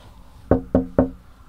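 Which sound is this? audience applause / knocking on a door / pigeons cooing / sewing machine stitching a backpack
knocking on a door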